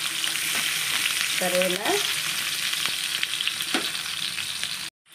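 Onion and tomato sizzle steadily in a hot pan for mushroom curry, a dense continuous frying hiss with a few stirring knocks, while a voice briefly speaks in the middle.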